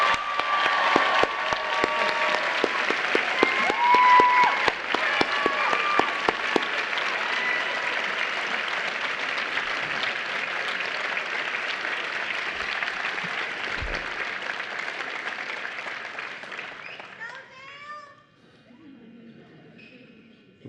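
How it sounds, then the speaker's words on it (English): Graduation ceremony audience applauding students at San Francisco State: loud, sustained clapping from a large crowd with scattered louder claps early on, holding steady before fading out near the end, leaving a quieter tail. "Please, won't you join me in applauding them?"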